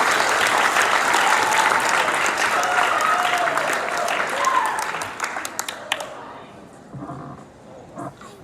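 At a sports banquet, a crowd gives loud, sustained applause that keeps up for several seconds before quickly dying away to a few scattered claps and murmurs.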